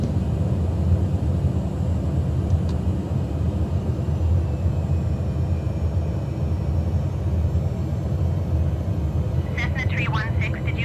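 A small Cessna airplane flying over the Upemba Depression wetland marshes in Africa, heard from inside the cabin: a loud, steady engine and propeller drone throughout, with a brief chirp of other sound near the end.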